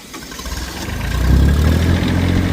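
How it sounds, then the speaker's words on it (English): A boat engine turns over and catches, then settles into a steady, loud idle with a low throbbing chug, close by and without talk. "engine starting."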